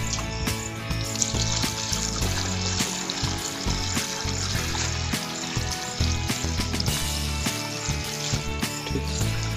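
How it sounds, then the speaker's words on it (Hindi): Water pours into a potted flowering plant, a continuous splashing trickle that runs the whole time, fairly loud and close, with a tonal background bed beneath it. "ये अपने पानी डाल दिए अभी"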